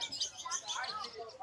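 A pet bird calls during trick training, giving soft, quick chirps and tweets that sound close but fairly quiet, with brief background voices.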